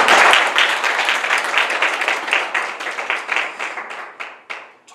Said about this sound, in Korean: 좋은 박수로 한번 보내드립니다.